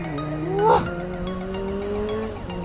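Motorcycle engine droning steadily on a ride through Purbalingga, with engine tones rising slightly as it gathers speed, while a voice briefly speaks over it near the start.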